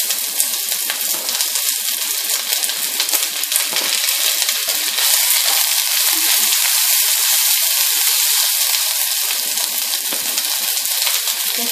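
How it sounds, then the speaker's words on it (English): Steady loud sizzling of vegetables stir-frying in a smoking-hot pan, a constant crackling hiss throughout with no talking. "we get that sizzle when it goes in"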